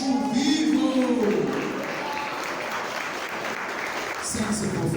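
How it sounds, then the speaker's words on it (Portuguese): A church congregation claps during a family worship service, the applause swelling loudly at first and then holding on as a steady mid-level patter that lifts again near the end. "Quem recebe, dá glória a Deus, aplaude Cristo vivo."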